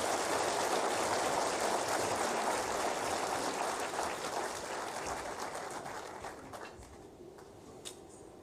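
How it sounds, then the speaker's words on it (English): Audience applause from a large crowd at an Indian community gathering with India's External Affairs Minister in Perth; dense, steady clapping that starts loud and gradually thins and fades toward the end. "may I request a big round of applause"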